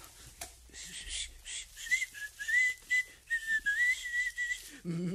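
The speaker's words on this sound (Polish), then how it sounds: "Przestań gwizdać." A person whistles a wavering, bird-like tune in a radio drama, quiet and near, with brief breathy pauses and a short low voice at the end.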